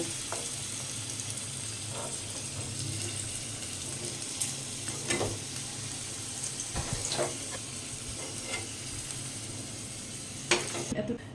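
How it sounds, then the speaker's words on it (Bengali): Potatoes for a mourola fish curry frying in hot oil, a steady broad sizzle throughout with scattered sharp clinks and scrapes as pieces are lifted out of the pan. "আলুগুলো ভালো করে ভেজে নিয়েছি, এবারে আমি আলুগুলো তুলে নেব"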